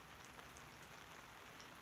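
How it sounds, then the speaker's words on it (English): Rain patters steadily onto puddles outdoors, a faint, even hiss of drops with no voices. "I am just enjoying the sound of the rain and the puddles"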